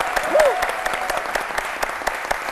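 A TV studio audience applauds a guest being welcomed onto a midday talk show set, steady clapping that fills the room for the whole stretch.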